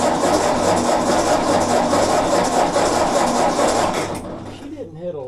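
A 1957 Ford tractor engine cranks over steadily on the starter without firing, a loud continuous churning that stops abruptly near the end, followed by a brief voice.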